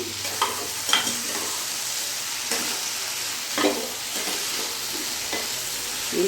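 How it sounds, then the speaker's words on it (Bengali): Elephant foot yam being stirred and fried in a pan over a gas flame: repeated scraping strokes of a spatula with a soft, steady sizzle underneath, close and fairly quiet, with no talking. "ভালো করে নাড়াচাড়া করে কষিয়ে নিয়েছি।"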